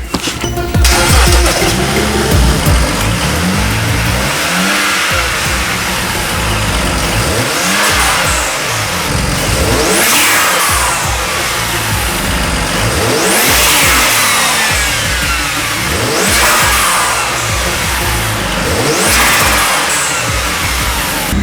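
A BMW E92 with the N54 twin-turbo engine runs while its cooling system is bled, holding a steady close mid-pitched hum broken by slow, repeated rev swells and dips, with no voices over it.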